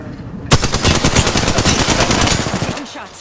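Loud, continuous machine-gun fire in an Apex Legends trios multiplayer match: a sharp burst opens and sustained rapid shots follow up close, easing off near the end.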